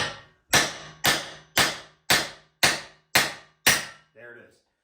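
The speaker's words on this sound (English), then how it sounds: "what we're listening for is when it bottoms out, you'll hear a tone change in the driver" A hammer drives a bearing race onto a Sterling 10.5 axle in a Ford F250 Super Duty: eight sharp, ringing metallic blows in a steady rhythm, then a softer, duller final tap as the race bottoms out.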